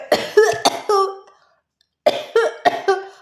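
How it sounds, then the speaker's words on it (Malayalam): Two bursts of harsh, voiced coughing from a woman with fever and breathlessness, each a quick run of three or four coughs, separated by a second of silence; close and fairly loud. "ഭയങ്കര ചുമയും ശ്വാസം മുട്ടലും."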